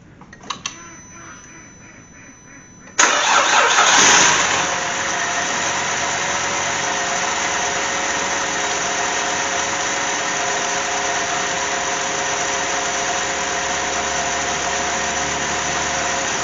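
GM 3.6 VVT V6 engine, just fitted with a new fuel injector, cranks briefly after faint clicks, catches with a loud surge, then settles into a steady, even idle heard up close for over ten seconds.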